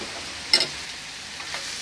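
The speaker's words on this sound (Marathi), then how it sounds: "आता असे ना स्लोवर ना 1-2-3 मिनिटं आपण कांदे शिजवून घेऊया" Chopped onions cook slowly in a pan for a kalwa oyster masala, giving a soft, steady sizzle with a brief stir clatter in the middle.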